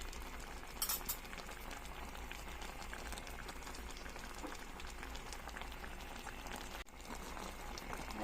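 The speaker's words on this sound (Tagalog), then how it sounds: "Kumukulo-kulo na ang ating nilutong adobong paksiw." A pot of fish adobong paksiw simmers quietly with a continuous soft bubbling and crackling, fairly faint and steady, with no talking.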